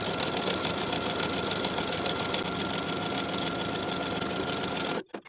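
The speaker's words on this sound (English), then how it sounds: "Sewing that seam allowance to the side panel with a 1/4 inch seam allowance" A sewing machine topstitching a pant seam allowance onto the side panel of high-waist barrel pants runs in one steady, close whir for about five seconds, then cuts off abruptly into quiet.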